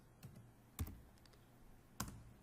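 Faint keyboard clicks while typing a search for Google Analytics: a few isolated key taps and two sharper strikes spaced apart, quiet and close, with no voices.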